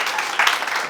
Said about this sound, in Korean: 그 진짜로 크게 박수 한번 쳐주세요